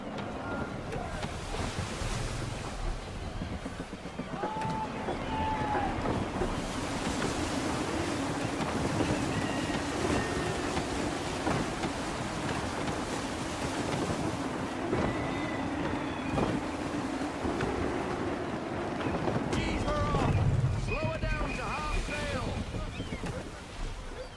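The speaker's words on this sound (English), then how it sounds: "Gusty winds can be difficult to manage." Gusty wind and rolling waves surround a sailing ship at sea in the video game Assassin's Creed III. The wind roars and surf rushes in a steady, loud wash, while someone talks over it at times.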